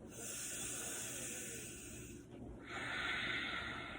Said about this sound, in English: And then another nice inhale on the chest.